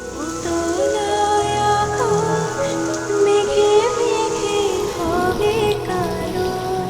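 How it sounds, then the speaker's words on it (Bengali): Heavy monsoon rain falls steadily over Dhaka during the rainy season, a dense continuous hiss with no pause, mixed with a faint musical background throughout. "ঘন কালো মেঘের দল বৃষ্টি হয়ে লুটে পড়ে ধরার বুকে"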